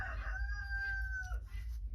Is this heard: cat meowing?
no